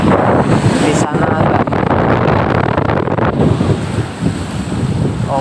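High sea waves on the West Lampung coast wash over a seawall, with continuous loud surf and heavy wind buffeting the microphone in a dense, roaring wash.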